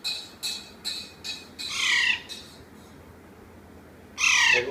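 A pet parrot squawks during play: a run of short harsh calls in quick succession, then a longer raspy screech and another loud squawk after a pause, close by with no talking.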